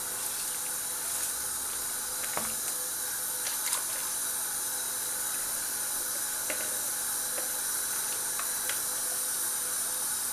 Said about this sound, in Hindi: अब मैं चावल डाल रही हूँ इसमें।